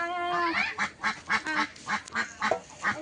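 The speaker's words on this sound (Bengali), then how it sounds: "এই হাঁসগুলো তুলে দাও নি।" Ducks being herded at dusk quack in a rapid, close series of nasal calls, about a dozen bursts in quick succession, loud and clear without talk.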